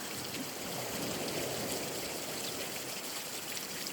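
A small waterfall stream of fresh spring water running onto the sand at Flamborough beach gives a steady, close rushing trickle with no voices.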